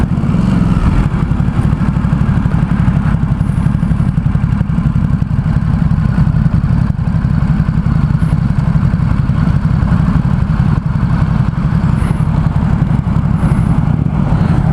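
A 2017 Ducati SuperSport S engine while riding: a loud, steady low rumble with a continuous throbbing drone and no sharp revving changes, plus mechanical clatter and some wind.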